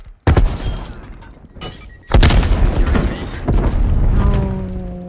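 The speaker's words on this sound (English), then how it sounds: "Throwing frag." A frag grenade blast in a first-person shooter: a sharp, loud boom with a thudding impact, then a second big explosion about two seconds later, followed by rumbling debris and lingering mechanical hum.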